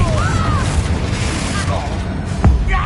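Spell blasts boom through a Hogwarts Legacy fight on PS5, with one sharp, loud explosion near the end over a busy layer of battle noise, and a voice talking throughout.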